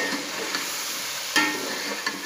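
Chicken pieces frying with potatoes in a pot for chicken aloo biryani, giving a steady close sizzle with a few sharp crackles and pops throughout.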